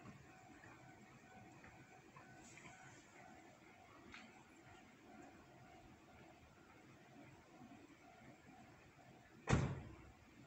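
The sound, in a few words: car door being shut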